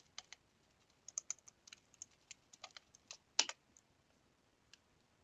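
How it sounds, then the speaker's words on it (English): Computer keyboard typing while coding in Python, light irregular clicks and clacks in short bursts with small pauses, close but quiet, with no speech during the keystrokes. "my typing is scuffed"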